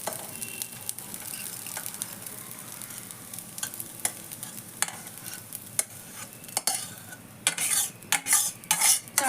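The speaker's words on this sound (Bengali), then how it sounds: "আমার চালটাও খুব সুন্দর ভাজা হয়ে গেছে, মচমচ করে আওয়াজ হচ্ছে" Rice dry-roasting in a kadai crackles and sizzles under repeated stirring, with scattered sharp pops and scrapes of the spatula against the metal pan, growing busier and louder toward the end.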